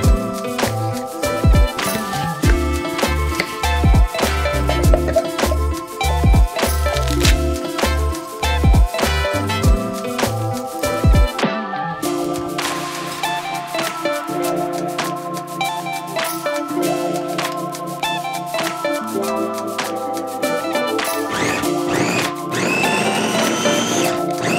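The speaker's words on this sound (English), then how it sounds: "I'm actually gonna whip up some blender salsa." A kitchen blender whirs loudly while blending homemade salsa, running in uneven pulses and then a sustained buzzing grind, with changes in pitch as the contents break down.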